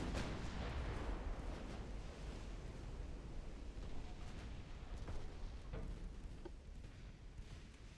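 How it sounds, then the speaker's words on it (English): Ammunition explosion aboard a warship in Ultimate Admiral: Dreadnoughts, a heavy blast followed by sustained rumbling booms and crackling secondary detonations that roll on loudly for several seconds. "That, my friends, is what an ammo explosion looks like."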